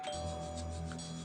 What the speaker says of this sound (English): My bell went off first.